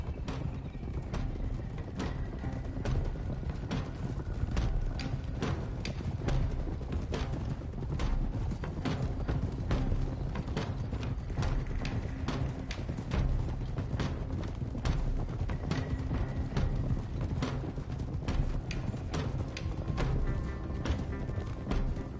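Horses' hooves clip-clop steadily as a group of riders moves along together in Red Dead Redemption 2, a dense, continuous patter of many hoofbeats at moderate loudness with an occasional faint whinny.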